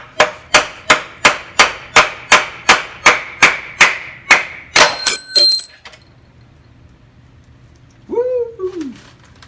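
Sharp metal hammer strikes on a moped ring out in a fast, even series of about fourteen close, loud blows, ending in a rattling clatter, then quiet with a short high squeal near the end.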